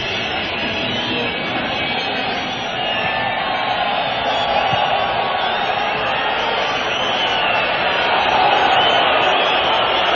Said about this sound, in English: And this is the crowd's understandable reaction.